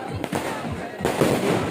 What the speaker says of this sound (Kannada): ಎಷ್ಟು ಕಲರ್ಫುಲ್ ಆಗಿ ಪಟಾಕಿ ಇದೆ